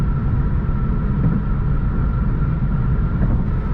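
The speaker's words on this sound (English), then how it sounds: "There's a little bit of road noise and wind noise coming in." Steady broadband rumble of road and wind noise fills the cabin of a 2015 BMW cruising on the freeway, constant and fairly loud with no talking.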